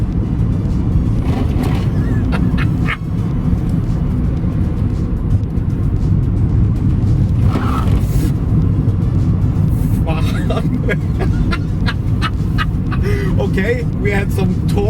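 An electric-converted VW Golf Mk2 driven by a Nissan Leaf 80 kW motor, heard as steady low road and drivetrain rumble from inside the car, with occasional brief clicks and knocks over the constant noise.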